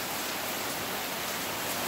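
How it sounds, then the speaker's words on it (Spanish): Heavy rain pours down in a dense, steady hiss with no breaks, fairly faint and with no voices. "Está lloviendo bien fuerte."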